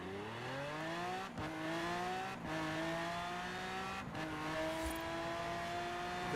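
A van in the video game Forza Horizon 4 drives hard, its engine revving up through several gear shifts, the pitch climbing and dropping with brief tire squeal, loud and continuous.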